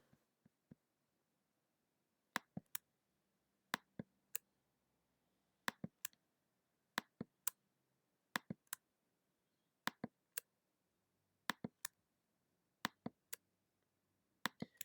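Sharp mouse clicks while editing in Photoshop, arriving in quick pairs and triplets at a steady pace over a quiet background, close and crisp with no talking.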